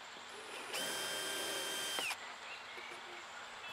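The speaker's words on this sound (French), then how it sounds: "Donc on va percer avec un diamètre inférieur, évidemment." A cordless drill bores a small pilot hole of about 2.5 to 3 mm into an aluminium profile of a wood-and-aluminium pool house, a steady whine lasting just over a second, then spinning down into quiet room noise.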